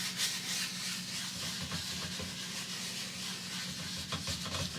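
A paintbrush being ground and crisscrossed into a canvas during an oil painting of an enchanted forest: a continuous dry rubbing scrub with rhythmic strokes, close and steady, with no talking.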